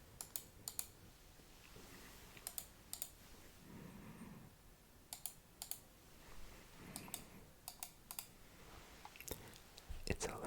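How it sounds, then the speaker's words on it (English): Sharp computer mouse clicks come in small rapid clusters of two to four, crisp and close against a quiet background, with brief soft low rustling between some groups. "I think the mouse clicks are going to be loud"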